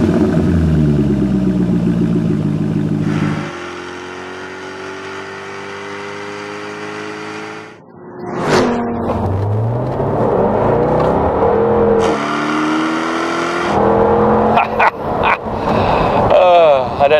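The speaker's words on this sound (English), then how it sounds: "This supercharged Jaguar V8 engine is one of the world's all-time great motors." A supercharged Jaguar F-Type V8 from 2013 accelerates hard on a race track, its loud engine note rising in pitch through several gear changes, with a brief drop between pulls and a whooshing pass near the end.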